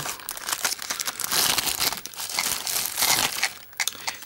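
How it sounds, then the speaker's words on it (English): A plastic bag holding arcade control panel parts crinkles and rustles as it is handled and opened, in close, uneven bursts of crackling for several seconds. "Alright, well it's in a plastic bag."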